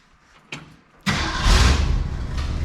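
A Ford engine with an exhaust leak cranks and fires up, then settles into a loud, steady running idle with a ticking, raspy edge. A brief click comes just before the crank.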